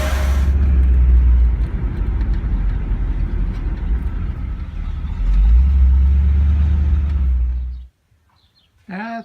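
A 1949 Chevy pickup truck rumbles along on a test drive, its engine a steady, close, low drone that swells once before cutting off, followed by a brief chirp near the end.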